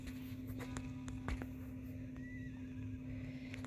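A horse whinnies in the Roblox game Wild Horse Islands, with short in-game calls over a steady low game hum and no talking.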